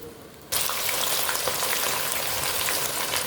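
Onions hit hot oil in a stew pot with a sudden loud burst, then keep up a dense, steady, close sizzle like heavy rain for several seconds, with no talking.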